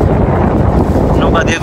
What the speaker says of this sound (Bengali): নৌকা দিয়ে ঘুরছি।